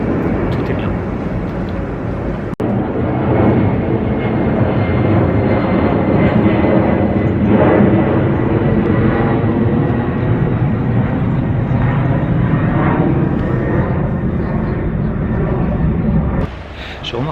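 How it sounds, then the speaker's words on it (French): An airplane passes overhead in the city of Naples, Italy, as a loud, sustained roar that holds steady for about sixteen seconds before dropping away near the end. "il y a des passages aussi d'avion, je ne sais pas si on l'entend, mais il y a des passages d'avion aussi"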